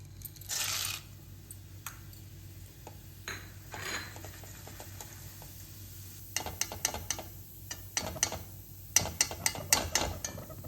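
Roasted gram dal tipped into a pan of aval mixture, giving a quick hard rattling pour followed by scattered small clinks and taps of dry pieces landing and being stirred against metal.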